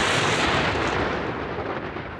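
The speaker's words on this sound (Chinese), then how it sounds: "一道闪电劈开夜空" A thunder crack with lightning, used as a story sound effect, bursts out as a loud, dense, rumbling roar that fills the whole clip and slowly eases without any voice over it.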